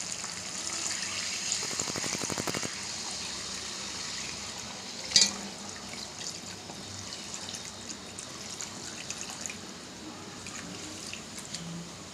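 Water is poured into a pan of simmering chicken gravy: a brief, steady splashing pour of about a second stands out over a low, constant cooking hiss, followed by a single soft clink. No one speaks.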